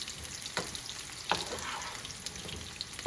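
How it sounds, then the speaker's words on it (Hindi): Potatoes frying in a pan over a medium flame for dum aloo, a steady soft sizzle with a few louder stir clicks and scrapes scattered through, close and fairly quiet, no voices. "ऊपर नीचे करके इसको मीडियम फ्लेम में हमें इसको फ्राई करना है"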